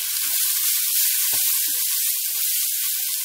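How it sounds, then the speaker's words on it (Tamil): Onions for a fish curry fry in a pan with a loud, continuous, close hiss and sizzle, broken only by soft stirring sounds. "இப்போ பாருங்க, வெங்காயம் நல்லா வெந்துடுச்சு."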